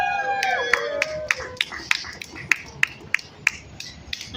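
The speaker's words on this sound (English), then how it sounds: "Let's give her a big round of applause as she comes up" Scattered, uneven hand claps from a small crowd at an outdoor rally outside Governor Hochul's office at 633 3rd Ave, welcoming a speaker to the mic: a dozen or so sharp, separate claps over faint background murmur.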